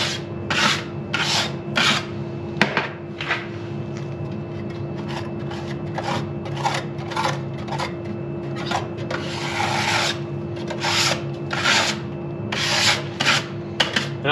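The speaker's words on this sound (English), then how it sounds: "Take my scraper." A scraper scrapes fly ash inside the combustion chamber of a HeatMaster G Series boiler in a long run of quick, repeated rasping strokes over a steady mechanical hum.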